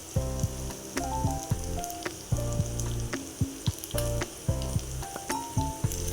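Snakehead fish pieces sizzle loudly in hot oil for a pickle, a steady crackling fry with repeated bursts of spattering and occasional stirring, close and continuous with no talk.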